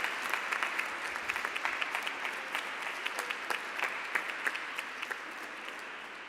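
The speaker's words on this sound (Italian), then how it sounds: "Grazie, un applauso." An Easter Mass congregation claps in a church, a steady patter of many hands lasting several seconds, moderately distant and gradually thinning toward the end.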